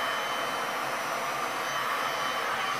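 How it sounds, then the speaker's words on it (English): A handheld blow dryer runs steadily at close range over a resin pour painting, giving a continuous loud rushing whoosh of air with a motor whine that holds an even level throughout. "I'm going to get my blow dryer before I set them on fire"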